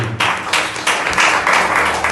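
Church congregation applauding during a Portuguese-language sermon, loud dense clapping that surges in waves across the whole span, close and full-sounding.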